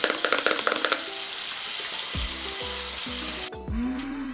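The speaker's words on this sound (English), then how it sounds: "let's go wash her face" Water running and splashing as a face is washed at a sink, starting with brief rattling handling, then a steady hiss of flowing water with low gurgles and splashes building toward the end.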